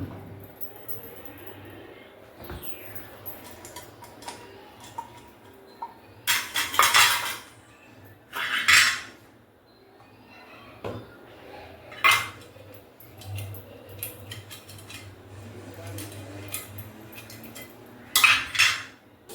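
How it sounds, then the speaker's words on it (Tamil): Metal idli plates clink and clatter up close while being greased with coconut oil in a home kitchen, in several sharp bursts of metal contact separated by quieter handling, with a low steady hum underneath and no talking. "நம்ம இட்லி தட்டில் எண்ணெய் தடவி வச்சுருவோம். தேங்காய் எண்ணெய் தான் லைட்டாக தடவுவேன்."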